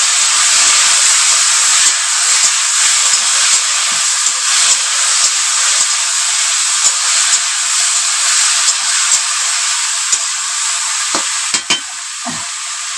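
Food fries loudly in a kadai on a stove, a dense continuous sizzle and hiss that fills the whole stretch, with a few faint knocks of stirring near the end.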